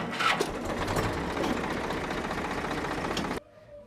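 A tractor engine runs steadily at close range on a farm field, a dense continuous mechanical drone that cuts off abruptly near the end, leaving near silence.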